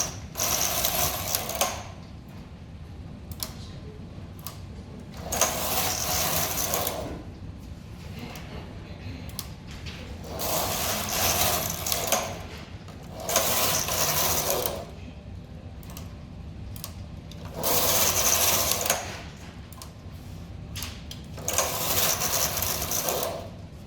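A domestic knitting machine carriage knitting a two-colour punch card pattern, sweeping back and forth in loud mechanical clattering passes of a few seconds each, separated by quieter pauses, close up.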